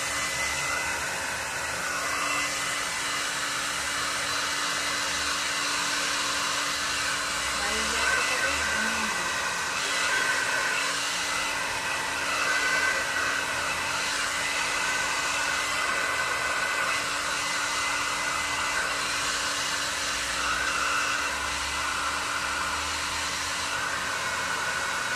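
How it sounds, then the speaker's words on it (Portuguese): A hair dryer blows steadily on a game controller's circuit board, a constant loud airy whoosh running the whole time with only slight wavering. "quem tiver secador, vai passar o secador"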